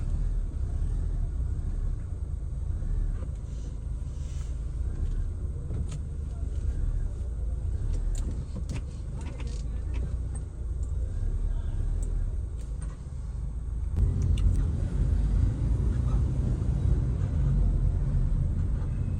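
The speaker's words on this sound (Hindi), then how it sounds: "अभी आपको टेस्ट ड्राइव देते हैं गाड़ी की।" A 2005 Honda Civic converted from manual to CVT automatic drives on a test drive, with a steady low engine and road rumble throughout that grows slightly heavier near the end.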